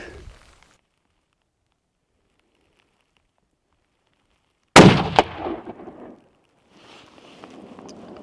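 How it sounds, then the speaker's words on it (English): A single sharp rifle shot fired at a rock 109 yards away, in the New Zealand backcountry during a tahr hunt, cracks loudly out of near silence and rolls off in a fading echo, followed by faint rustling. "we're gonna take a couple shots here at a rock at 109 yards"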